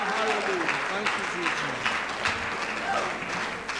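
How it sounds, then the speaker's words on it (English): A church congregation claps in praise on a Sunday morning, dense, lively applause that holds steady throughout while voices call out over it. "give him a hand clap of praise this Glory morning"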